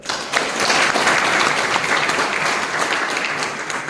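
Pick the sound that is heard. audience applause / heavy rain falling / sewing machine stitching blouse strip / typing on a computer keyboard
audience applause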